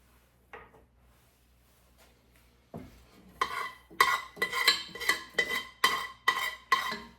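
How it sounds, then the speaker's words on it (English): A spoon scrapes a bowl of homemade sorrel jam: after a near-silent start with a couple of soft knocks, about eight close, rhythmic scraping strokes follow one after another. "I'm scraping the bowl."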